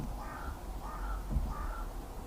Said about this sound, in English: there's certainly a lot of crows around now.